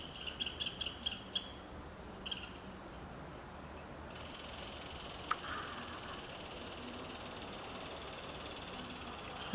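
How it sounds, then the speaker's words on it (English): Faint, rapid woodpecker tapping comes in a couple of quick bursts, followed by a quiet outdoor hush. "A woodpecker."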